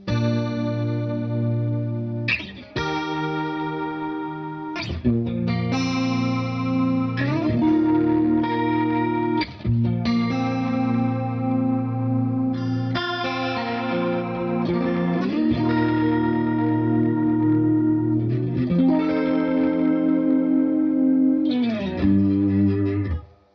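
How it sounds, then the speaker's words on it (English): Electric guitar through a rotary-speaker effect pedal plays a long run of sustained chords and notes, steady and loud with wobbling shimmer. "this is a rotary sound, and this is just like a clean"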